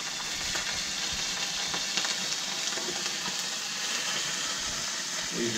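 Fish fillets sautéing in Australian butter in a pan, a steady close crackling sizzle with faint bubbling throughout, no voices.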